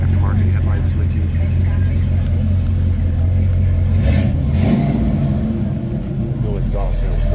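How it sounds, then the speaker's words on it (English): A cold 1953 GMC panel truck engine running with no exhaust system revs loudly and roughly up close, a heavy low rumble throughout with a surge partway through, while someone talks over it. "No exhaust sounds great, doesn't it?"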